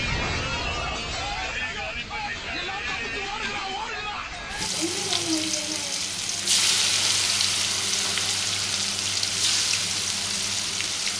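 Soy chunks drop into hot oil and sizzle, the frying hiss swelling loudly after a few seconds and continuing steadily; voices murmur in the background.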